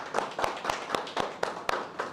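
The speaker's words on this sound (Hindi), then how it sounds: "आपके लिए तालियां सर" Clapping from the audience at a commodity trading course seminar comes as evenly spaced, rhythmic claps, about four a second, fairly close and with no talk over them.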